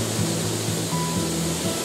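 Mountain stream water rushes and burbles steadily in a continuous broadband wash, close and moderately loud, with no voices, in Northern Ireland.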